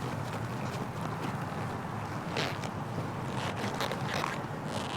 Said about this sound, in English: this is my loudest jacket. You can probably hear it.